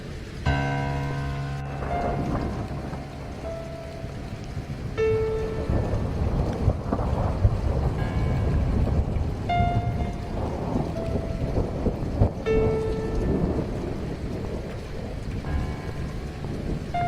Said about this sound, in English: I think there's a big storm.